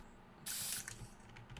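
A spray can hisses in a single loud continuous burst in the video game Ratty Catty, lasting about a third of a second before fading into faint clattering game noise.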